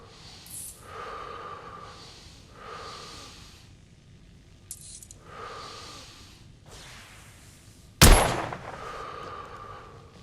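A gunshot from a firearm in the video game The Order: 1886 cracks once, loud and sharp, near the end, preceded by quiet breathy whooshes and ambient game sounds.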